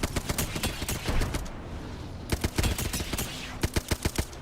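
Rapid bursts of automatic gunfire in a battle royale shooter, loud and close, firing in repeated volleys with short pauses between them.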